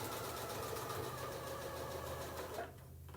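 A sewing machine back stitching a placemat: a close, continuous motor hum and rapid needle chatter that runs steadily, then eases off near the end, with no talking.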